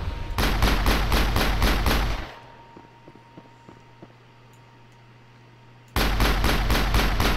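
Rapid bursts of gunfire and cannon shots from the Mass Effect video game, a loud sustained volley that stops for several seconds and then resumes abruptly.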